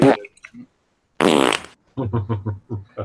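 A loud, raspy fart-like burst lasts about a third of a second in a casual podcast setting, preceded by a brief voice and followed by someone talking.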